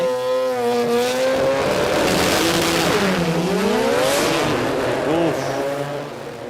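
A race car engine at a Sydney jamboree race day labors through the gears. Its loud, rough note swoops down and up in pitch, rising and falling unevenly as the revs hang and recover.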